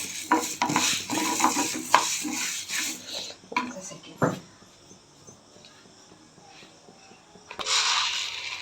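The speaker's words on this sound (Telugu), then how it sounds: "ఇవన్నీ కొంచెం దోరగా వేపుకుందాం" Fenugreek seeds and spices being dry roasted in a pan for tomato rasam, with scraping stirs and metallic clinks of utensil against pan in uneven bursts, a quieter stretch in the middle, and a faint background sizzle.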